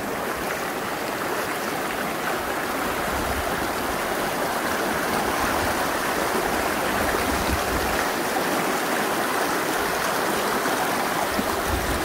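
A river in Rosenlaui Valley flows with a steady, full rush of water, loud and unbroken throughout, with no other sounds standing out.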